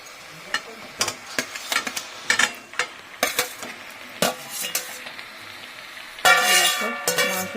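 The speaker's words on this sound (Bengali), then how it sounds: "এই মা দিয়ে দিচ্ছে মাংসটা।" Chicken pieces for coriander chicken go into a pan and are stirred, giving irregular close clanks and scrapes of a spatula against metal, then a louder burst of sizzling toward the end.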